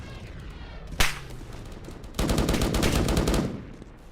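Guns fire in the Roblox Strike Warfare video game, a single sharp shot followed about a second later by a rapid automatic burst that rattles for over a second before fading.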